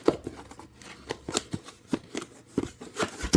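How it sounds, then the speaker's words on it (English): Aftermarket toner cartridge packaging for a Brother printer is handled close up: crisp rustles, crinkles and soft thumps of cardboard and plastic come in irregular bursts with quiet gaps between them. "So let's unbox it first."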